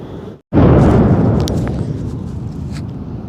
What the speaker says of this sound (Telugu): చూశారు కదా ఆ సౌండ్ ఎట్లా వస్తుందో లోపల నుండి, ఒక బాంబు పేలినట్లు.